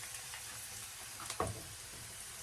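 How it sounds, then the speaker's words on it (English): Quiet, steady sizzling of fish frying in hot oil for escovitch fish, with a faint clink partway through. "You hear it sizzling away."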